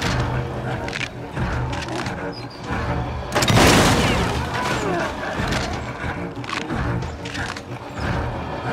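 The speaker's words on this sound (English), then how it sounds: "Oh, I knew there was a shotgun" A single heavy shotgun blast booms in the video game Little Nightmares II, loud and close, rising out of low rumbling game ambience midway through.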